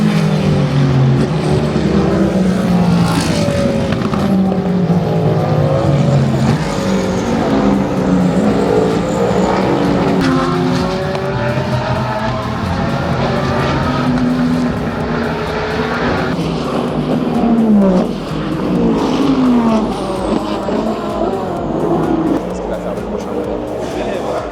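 Race car engines at the 24 Hours of Le Mans pits, with several engines rising and falling in pitch as cars move and idle, loud and continuous, layered with crowd noise and talk.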